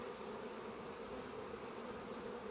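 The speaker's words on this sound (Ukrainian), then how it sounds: "такого ще не було, щоб 10 вересня вийшов рій" A honeybee swarm hums at an apiary in September, a steady, dense insect buzz that holds evenly throughout with no pauses and no voices.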